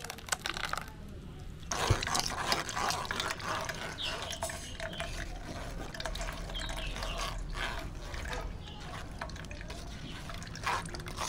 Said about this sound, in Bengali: তরমুজটা ছেঁকে নেব।